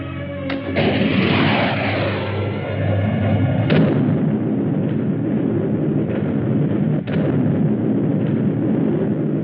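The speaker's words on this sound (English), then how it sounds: "Start the bombardment." Missile bombardment from a 1954 science fiction film: loud booming impacts and rumbling blasts, with sharp bursts near the start and again around the middle and end over a continuous heavy roar.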